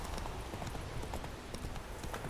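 A horse's hooves clip-clop in a steady riding rhythm on a path in The Witcher 3, moderately close and fairly quiet, with no talk over them.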